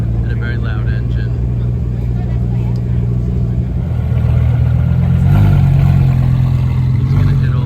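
A Lamborghini engine rumbles at the San Clemente car show, a deep steady drone that swells louder about halfway through as it revs, with people talking over it.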